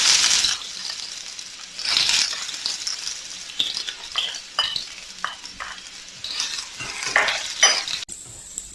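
Chopped garlic and dried red chillies fry in a hot pan with a steady crackling sizzle, broken by repeated scraping stirs and a few brief clinks of a utensil, with no talking.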